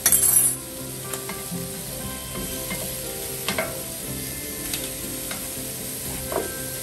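Chicken sizzles on a grill with a soft, steady hiss, punctuated by a few sharp metallic clinks and scrapes from nearby utensils, close and without talk.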